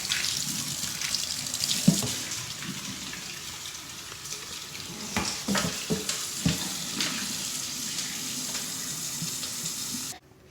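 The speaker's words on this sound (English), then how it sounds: "Now we're going to rinse our eggs" Cold tap water runs steadily over boiled eggs in a pot, a constant hissing stream with occasional knocks and splashes, then stops abruptly near the end.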